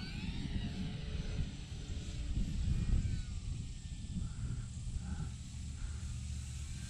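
An electric RC model Air Tractor crop duster flies over a park, its steady motor whine holding at a moderate distance and swelling slightly as it passes through a turn, with no voices.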